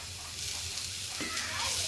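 Shallots sauté in a pan for a squid curry, making a faint, steady sizzle over a low background hum.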